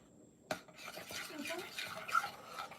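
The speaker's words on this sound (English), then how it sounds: "A little more stirring. Stir, stir, stir." A spoon stirs melted chocolate in a bowl for hot chocolate Christmas cookie bark. It opens with a sharp clink and continues as steady scraping and clinking close by.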